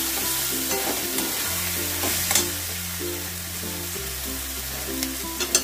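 Red chilli powder is stirred into frying Bombay duck fish, a steady close sizzle with light spatula scrapes, under a soft musical background.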